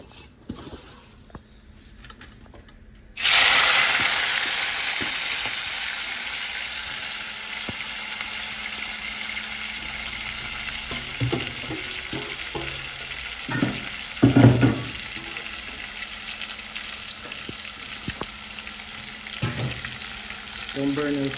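Scallion, thyme, onion and scotch bonnet hit hot oil with a sudden loud sizzle that settles into a steady close frying hiss, scattered with clinks and scraping of stirring, no talk.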